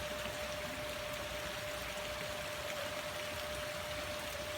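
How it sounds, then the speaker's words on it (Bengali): Heavy monsoon rain in Dinajpur pours down in a steady, dense wash of noise, continuous and even throughout, with no voices over it. "সেই সঙ্গে ভারী বৃষ্টি।"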